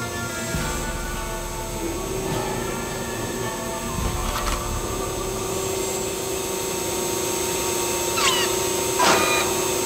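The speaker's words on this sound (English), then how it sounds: "Hey, it's just a robot vacuum." A robot vacuum cleaner runs with a constant mechanical whir and motor hum, close by, broken by a few faint clicks and knocks.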